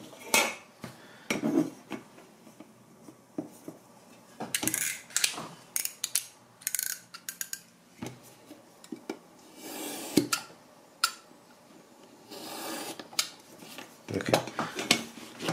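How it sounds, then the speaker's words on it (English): A standard utility cutter blade slices through Toscana Italia shell cordovan leather in a run of short, crisp scraping cuts and clicks, separated by brief quiet gaps, heard close up with no talking. "two slices, it cut very well"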